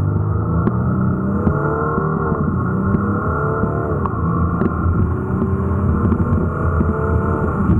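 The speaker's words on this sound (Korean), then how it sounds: "현재 45 TDI의 가속 성능에 대해서도 한번 알아볼까요?" A 2016 Audi Q7 45 TDI diesel SUV accelerating hard in an acceleration test, its engine drone rising through the revs with brief dips at gear changes, loud and continuous from inside the cabin, no voices.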